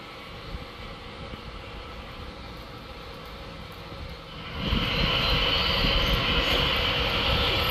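Boeing airliner engines running during checks on the flight line outside the production hangars near Renton Airport, a steady distant roar that swells suddenly partway through into a louder, brighter jet whine, with no talking.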